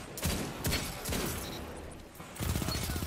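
A scout rifle fires in the Destiny 2 video game: a few sharp shots ring out in the first seconds, then a quicker run of shots near the end, over steady game ambience.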